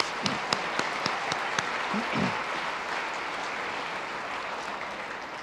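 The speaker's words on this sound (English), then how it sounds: "Round of applause for all of those elected officials." Audience applause at a chamber of commerce annual meeting, honoring elected officials: steady, dense clapping from a room full of people, with a few sharper claps standing out near the start, then holding evenly before tapering slightly at the end.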